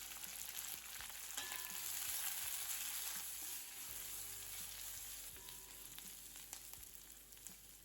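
Steady sizzling and crackling of onions, curry leaves and dried chilli frying in a hot pan for poori masala, with occasional stirring clinks, close and continuous throughout.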